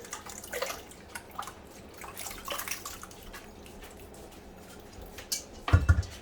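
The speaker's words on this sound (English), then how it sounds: "We're just going to swish these around and make sure that if there's anything on the outside that we get them clean." Grapes swished and washed in a bowl of water make a soft, continuous watery sloshing with drips, ending in a louder splash close by.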